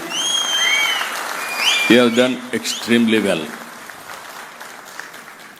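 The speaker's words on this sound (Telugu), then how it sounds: "గట్టిగా చప్పట్లు కొట్టి ఒకసారి అభినందించండి" Loud applause from the audience at a national highway inauguration and foundation-stone ceremony with a Union Minister, filling the whole stretch, with someone speaking over it partway through.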